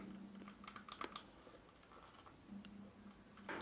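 Buttons on an Aya Neo Air handheld gaming PC click in quick irregular bursts, crisp and close, with a steady low hum underneath and no talking.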